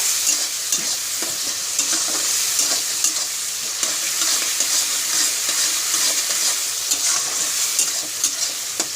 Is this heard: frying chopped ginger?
yes